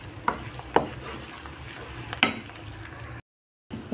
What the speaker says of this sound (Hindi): प्याज हमारा यहाँ फ्राई हो रहा है